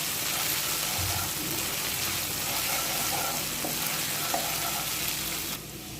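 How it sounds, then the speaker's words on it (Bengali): Ginger and cumin paste stirred in hot oil, a dense, close sizzle with soft scraping of a spoon, continuing evenly and dropping slightly in level at the very end. "মশলাগুলো তেলের সাথে একটু নেড়ে নেব।"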